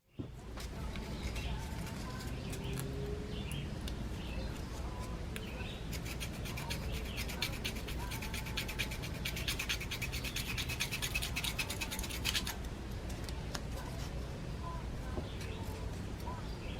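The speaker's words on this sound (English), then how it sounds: "It will do the usual cleaning them up with some 400 grit sandpaper" 400 grit sandpaper rubbing the ignition points of a 1954 Eclipse Tornado 800 sickle bar mower, a continuous close scratchy rasping that carries on steadily throughout with a constant low background noise.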